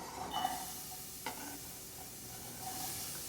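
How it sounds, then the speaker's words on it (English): Onions sizzling and being stirred in a hot pan, a soft steady frying hiss with a few light scraping clicks, fairly quiet and close with no talking. "Can you hear that little bit of sizzle? The pan's hot enough."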